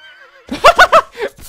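Horse neighs in the battle game Mount & Blade: With Fire & Sword, a loud, close whinny in three quick pulsing bursts with a softer trailing snort, after a faint tonal hum.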